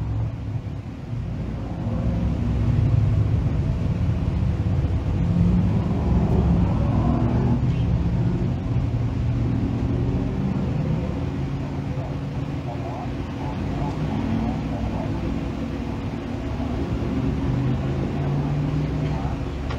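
Limited sportsman race cars run a heat race at Can-Am, a steady loud roar of engines that rises and falls over the whole stretch, with an announcer talking over the racing noise.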